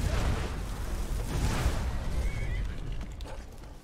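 A horse whinnies in the open world of Skyrim, a loud neigh over windy outdoor ambience with no one speaking.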